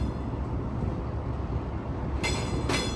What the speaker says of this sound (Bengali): এই ট্রেনে করে কার্গো আসতেছে